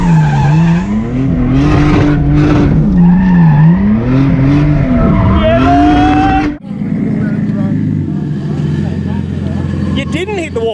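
A 600+hp Barra-engined drift car skids hard with a loud, high-revving engine whose pitch swoops up and down, tires squealing steadily, then cuts to a quieter rumble as voices talk over it.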